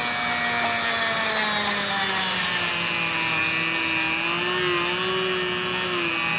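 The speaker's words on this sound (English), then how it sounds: "I'm going to drill a hole through the back of the hand" A power drill bores a hole through a carved wooden hand, a continuous high whine whose pitch drifts slightly as the bit works through the wood, loud and close with no talking.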